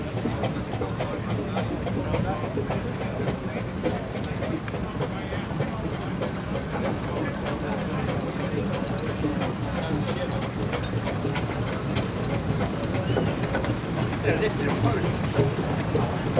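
Burrell 3-speed steam traction engine from Kent, restored in 2020, rumbling steadily past in a steam rally parade, with continuous low mechanical chugging and clatter under a commentator's voice and crowd noise.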